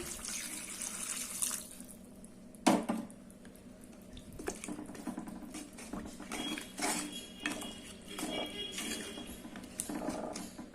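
Water is poured into a pan of dry anchovy and drumstick curry, with a splashing pour amid clinks of metal cookware and utensils, close and fairly quiet.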